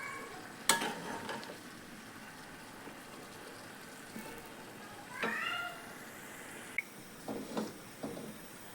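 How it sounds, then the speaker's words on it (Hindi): Onions fry in a pan on a gas stove as a quiet, steady sizzle, broken by a few soft scrapes and knocks of stirring. "प्याज हमारा फ्राई हो रहा है"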